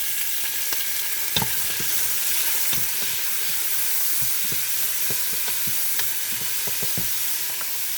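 Onion and tomatoes fry in a pan for pork sinigang with a steady, broad sizzle throughout. Scattered light clicks and scrapes of stirring sound close by, and no one speaks.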